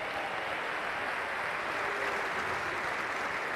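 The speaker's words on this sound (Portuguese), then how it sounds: "Batam palmas se acharem que sim." Audience applause at a gala awards event for a Portuguese football club, a steady even wash of clapping from a large crowd throughout, with no talking over it.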